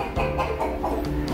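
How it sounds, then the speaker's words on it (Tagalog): Chickens cluck and chatter nearby in short repeated calls, with a low steady hum underneath. "Ang iingay-ingay ang manok."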